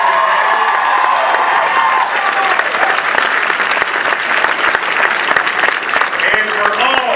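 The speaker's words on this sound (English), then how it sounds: "Let's give her a great round of applause for Shelby for that great introduction." A crowd at a Clinton and McAuliffe rally gives a sustained round of applause after an introduction, dense clapping with scattered cheers, steady and loud throughout.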